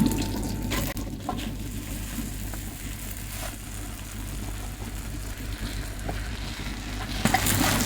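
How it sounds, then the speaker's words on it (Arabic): Water drains from long-grain rice that was washed and soaked in hot water for a Syrian mansaf, a faint, continuous trickling and splashing at a sink that holds steady throughout. "وهلا راح افضي الرز"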